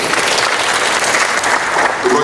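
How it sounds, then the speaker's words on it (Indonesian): Dense, steady applause from an audience fills a short moment at an official swearing-in ceremony for an acting regent in West Papua, loud and continuous throughout. "Tepuk tangan juga."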